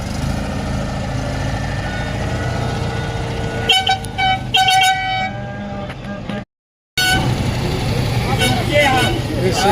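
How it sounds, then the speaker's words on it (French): Several truck horns toot in short repeated blasts over a rumbling idling engine during a truck raid to Portugal, loud and close, with voices mixed in. "Allez, un petit coup de klaxon les gars."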